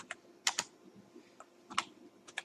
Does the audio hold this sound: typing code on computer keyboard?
yes